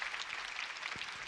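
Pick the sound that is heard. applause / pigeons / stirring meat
applause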